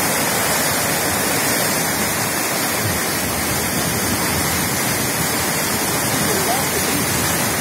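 Water spilling over from a blocked, dirty canal in San Simon, Izola, during flooding, a steady loud broadband rush with no pauses, continuous throughout.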